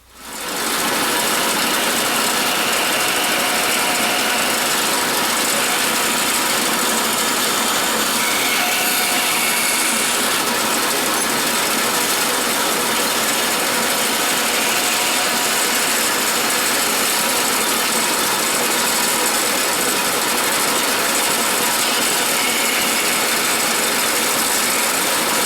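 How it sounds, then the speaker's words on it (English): Small bandsaw cutting a part for a Series 1 V8 Land Rover restoration, a steady loud mechanical whir with a ratcheting, gritty buzz running continuously for the whole stretch, no talking. "So we'll go over and use the bandsaw."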